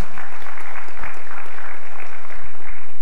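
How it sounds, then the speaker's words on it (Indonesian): Audience applause at a debate between candidates for PERADI chairman: a steady wash of clapping from a crowd that fills the short span at an even level, with no voices over it. "Silakan aplaus."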